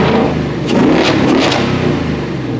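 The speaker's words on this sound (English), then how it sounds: "you hear that induction sucking in?" A car fitted with a cold air intake revs hard and close, its engine note rising and falling with a loud breathy induction roar across a single sustained pull, no voices.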